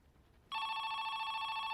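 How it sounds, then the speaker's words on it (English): Telephone bell rings loudly and steadily for over a second after a brief quiet lead-in, a sustained close electronic ring that cuts off abruptly, no talking. "Just then the phone rings again"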